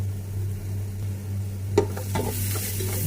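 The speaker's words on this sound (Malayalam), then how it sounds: "ഒന്ന് മിക്സ് ചെയ്ത് പച്ചമസാലയിലൊന്ന് ചേർത്ത് പിടിപ്പിക്കുക" Ground spices, including pepper and coriander powder, are stirred into green masala frying in a pan for beef biriyani: a soft, steady sizzle with a few scraping stirs of the spoon, close and moderate over a low kitchen hum.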